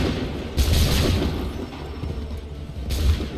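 Cannon fire in Assassin's Creed III booms twice, with deep heavy blasts a couple of seconds apart over a steady background of battle noise.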